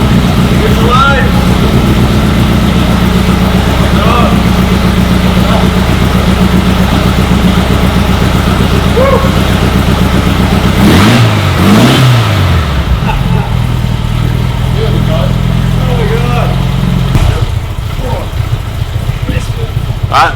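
The engine of a 61-year-old desert buggy with a wooden steering wheel idles loudly and close, rumbling steadily, then revs up briefly mid-way before settling back; people speak over it.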